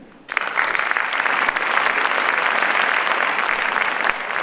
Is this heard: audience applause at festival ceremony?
yes